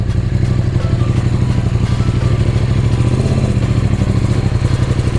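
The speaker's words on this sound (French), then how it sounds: "Par contre, elle galère plus à démarrer. Genre, faut que je mette un petit coup de gaz pour qu'elle démarre." A KTM motorcycle engine runs after a hard start with a little throttle, a loud, close, steady mechanical clatter and rumble that holds evenly throughout, with no voices.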